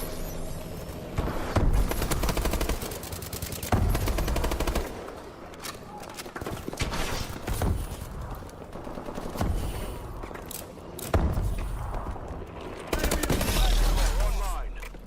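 Heavy Warbird air-support gunfire in a video game, loud rapid machine-gun bursts separated by short gaps and booming impacts, alone without talk.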